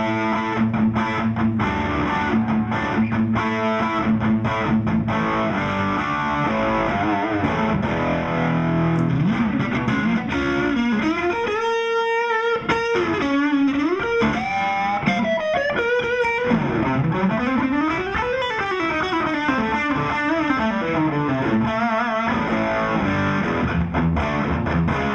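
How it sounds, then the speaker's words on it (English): An electric guitar runs through a Barber SS Direct Drive distortion pedal and plays heavy, saturated chords and bent lead lines continuously for the whole stretch, loud and dense with no talking. "The Barber SS Direct Drive here, that's kind of my heavier distortion."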